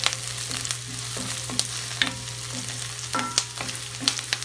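Onion sizzling in a pan over medium heat for a chicken in tomato sauce, a steady close frying hiss broken by repeated scraping stirs and clacks of the utensil.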